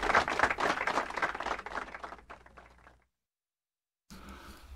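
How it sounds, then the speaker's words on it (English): A canned clapping-and-laughter sound effect played during a stream, with loud dense applause fading out over a few seconds, a brief silence, then a quieter burst of crowd noise. "I got clapping and laughter because everybody loves what I do here."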